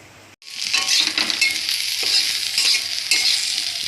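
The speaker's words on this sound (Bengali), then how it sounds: "তো কাঁকরোল ভাজা হয়ে গেল" Sliced teasel gourd (kakrol) sizzles loudly in a hot pan, a continuous bright frying hiss with stirring scrapes breaking in every second or so.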